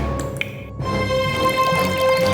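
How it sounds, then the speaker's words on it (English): Healing water drips into a tube in a fairy-tale scene, heard as a soft liquid plop followed by a sustained bright, shimmering tone that fills the rest of the moment. "she dripped the healing water she carried with her"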